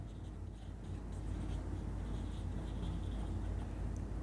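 A teacher writing on a board during a class 9 physics lesson on motion, a steady close scratching under low room hum, with no talk.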